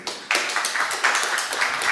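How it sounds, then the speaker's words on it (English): A conference audience applauds two speakers after their talk on document retrieval. Clapping comes in quick, bright bursts, a short lively round with no pauses. "Great round of applause to both of you."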